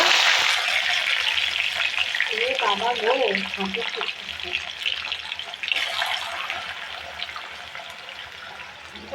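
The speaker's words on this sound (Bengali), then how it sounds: "মাছটা ভাজা হচ্ছে এই তো ভাজা হচ্ছে" Fish frying in a pan for a simple home-cooked fish curry with bottle gourd, a steady broad sizzle running throughout, with a brief clatter of cooking movement partway through.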